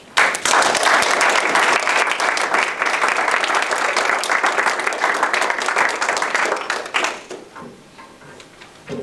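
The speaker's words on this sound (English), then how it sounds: "let's give a big round of applause for my volunteers" A big round of applause from a Toastmasters contest audience for the volunteers, loud sustained clapping from many people for about seven seconds before dying away, with a few scattered claps at the end.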